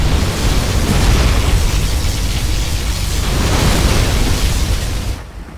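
A loud, roaring particle cannon explosion in Command & Conquer: Generals rumbles continuously for several seconds, then cuts off abruptly.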